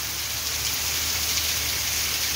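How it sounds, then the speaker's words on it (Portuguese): Steady rain falls in Amaniutuba, Ceará, a dense, even hiss of drops on surfaces with no pauses, close and fairly loud, and no voices. "Muito boa essa chuva de hoje."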